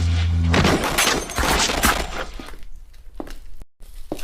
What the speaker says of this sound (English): Suddenly, gunfire.